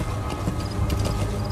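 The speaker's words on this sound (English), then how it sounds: "Oh, it's just a battle horse." A battle horse's hooves clop in Metal Gear Solid 5, a steady, close run of hoofbeats over a dense game soundscape with no talking.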